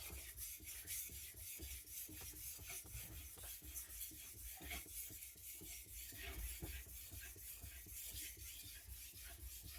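A Tojiro Japanese knife, gyuto or kiritsuke style, is sharpened on a whetstone in quiet, rhythmic back-and-forth strokes, soft and close, with no talking.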